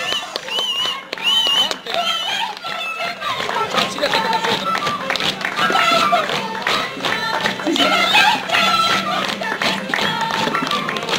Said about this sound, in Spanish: voto de aplausos.